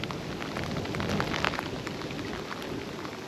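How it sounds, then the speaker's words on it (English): Heavy rain driven by wind pours down steadily during a brutal storm beside a chalk stream. It is a dense, even hiss with scattered pattering drops and no voices. "here comes the real rain, as predicted, with the wind"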